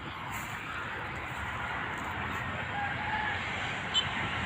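A rooster crows at a distance over a steady outdoor hiss in the morning after rain, with no voices nearby.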